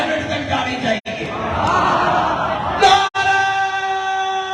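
Crowd at a Muharram religious gathering on Wahadat Road, Lahore, shouting slogans in loud, dense waves of many voices, broken by two sharp brief gaps between bursts.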